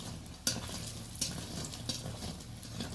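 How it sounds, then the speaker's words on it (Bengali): Handmade bori dumplings made from ash gourd and biuli dal fry in oil over low heat, giving a faint, steady sizzle with occasional soft pops and stirring clicks. "হালকা আঁচে বড়িটা ভেজে নিতে হবে"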